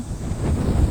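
Wind buffets the microphone at Silmido beach in a low, steady roar that swells and dips over a second, with no voices.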